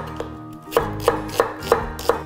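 A knife chops an onion on a cutting board in five evenly spaced, crisp knocks, close and clear with no talking.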